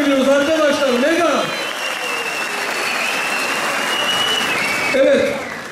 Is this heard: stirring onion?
no